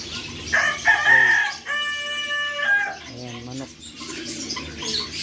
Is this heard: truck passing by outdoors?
no